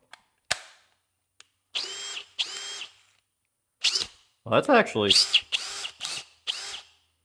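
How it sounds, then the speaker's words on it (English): A brushless cordless power drill with a 4 amp-hour battery whirs in several short bursts, triggered up close between stretches of someone talking. "this sounds a lot better than I thought the drill was gonna sound"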